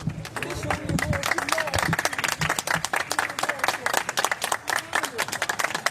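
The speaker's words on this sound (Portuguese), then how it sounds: "Na hora da passagem do caixão, a singela homenagem em forma de palmas" A crowd claps steadily as a coffin passes in a funeral procession outside the Botafogo club headquarters for a samba singer, with sharp, dense hand claps and a voice talking over them throughout.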